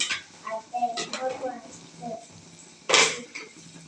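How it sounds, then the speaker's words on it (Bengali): Chili powder being stirred into fish curry with potatoes in a pan gives scraping and clinking spoon-on-metal sounds, with a louder clatter near the end, under soft background talk. "তারপর একটু নাড়াচাড়া করে দিতে হবে"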